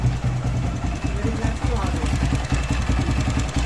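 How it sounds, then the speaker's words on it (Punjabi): A 125 Deluxe motorcycle engine idles close by with a rapid, even thumping putter that holds steady throughout. "ਬਗੈਰ ਪੈਟਰੋਲ ਤੋਂ ਮੋਟਰਸਾਈਕਲ ਇਸ ਤਰ੍ਹਾਂ ਚੱਲਦੀ ਵੀ ਹੈ"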